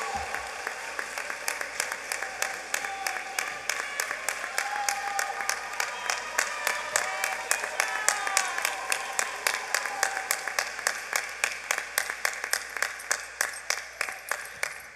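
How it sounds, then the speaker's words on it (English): Graduation audience at a Baltimore Design School Class of 2021 ceremony applauds the salutatorian, a steady wash of clapping that builds and then thins into sharper individual claps toward the end. "please give a round of applause for Mr. Keyshawn Johnson"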